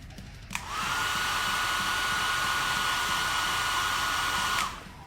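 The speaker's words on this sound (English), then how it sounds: "that hairdryer is saving me about 20 minutes by now as well." A handheld hair dryer switches on and runs with a steady, loud, even whoosh for about four seconds, then cuts off. No one speaks over it.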